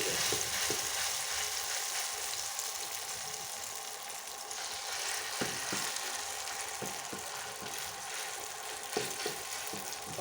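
Vegetable batter for pancake-like fritters spreads into hot oil in a pan, producing a continuous moderate sizzle with scattered faint clicks and scrapes over about ten seconds.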